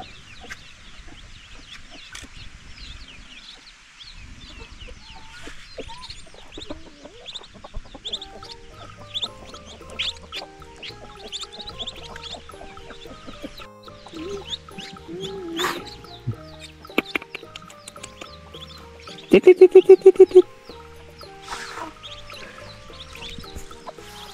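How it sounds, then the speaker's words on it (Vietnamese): Chickens cluck and a rooster calls around a Vietnamese farmhouse yard, with scattered bird calls throughout and a louder burst of rapid clucking near the end. "Gà vịt thì rất là nhiều luôn ạ."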